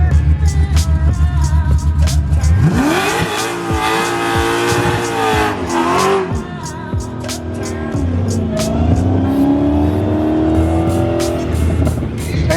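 Modified Dodge Charger street cars with Hemi engines roar at a drag strip, one engine revving and rising in pitch, then another surging, with loud, close, sustained exhaust that shifts as the cars launch and pull away.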